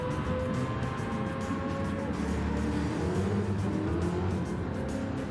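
Race car in Gran Turismo 7 at Spa, low on fuel and heading into the pits, its engine droning steadily with shifting pitch, close and continuous.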